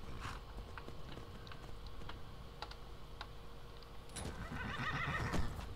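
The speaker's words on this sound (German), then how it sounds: "Da ist mein Pferdchen." A horse whinnies in a video game, a clear rising neigh near the end, over a steady bed of game ambience with scattered keyboard taps and mouse clicks.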